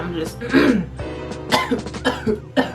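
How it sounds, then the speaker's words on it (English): Several short, dry coughs and throat-clearing sounds close up, irregularly spaced, with no clear words spoken. "I have a dry cough"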